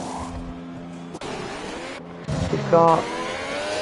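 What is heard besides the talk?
race cars overtaking in sim racing video game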